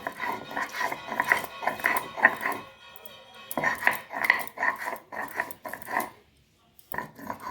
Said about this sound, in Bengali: আদা রসুন কম থাকার কারণে আমি শিলেটাকে পেস্ট করে নিচ্ছি